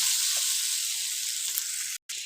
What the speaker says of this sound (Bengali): সেরকমভাবে তোমরা কিন্তু ভালোভাবে কষিয়ে নেবে